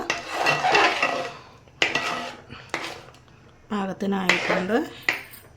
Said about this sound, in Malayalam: ഇനി ഇതൊരു 10 മിനിറ്റോളം ഇളക്കണം